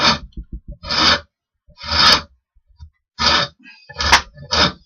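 A wooden scraping tool being rounded with sandpaper: five or six bursts of close, loud rasping strokes, each about half a second, separated by brief pauses and a few soft knocks.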